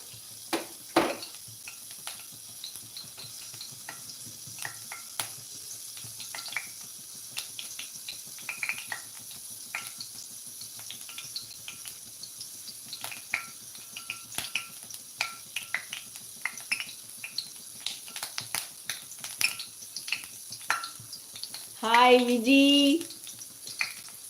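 Soft crackling and popping over a quiet background as mustard seeds, fenugreek and cumin spatter in hot oil for tamarind curry, with a brief louder sizzle near the end.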